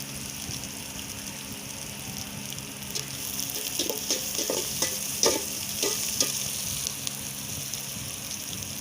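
Sambar base frying in a pan, a continuous crackling sizzle with a run of sharper spoon taps and scrapes in the middle as it is stirred, close and without speech.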